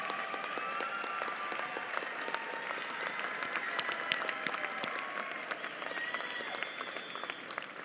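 Commencement audience at a university graduation ceremony applauds the graduates' families and friends, with steady, dense clapping from a large crowd that holds at an even level throughout.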